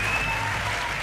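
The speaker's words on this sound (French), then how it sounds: "Oui, vous pouvez l'applaudir, Cheslin." Loud applause from the audience at the 18th Nuit du Rugby awards evening for rugby player Cheslin Kolbe, a thick sustained wash of clapping with a faint tonal hum beneath.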